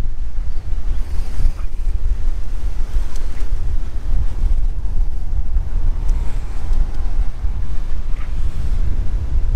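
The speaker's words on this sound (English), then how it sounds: "The wind's quite strong." Strong wind blowing steadily across a beach in remote south-east Western Australia at sundown, a loud continuous roar of gusts and buffeting with surf-like rushing throughout and no voices.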